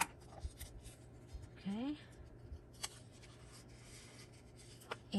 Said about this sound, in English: I'm going to go ahead and fold it in half.